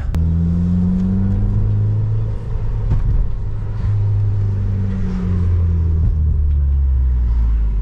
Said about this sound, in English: Little race car on the roundabout.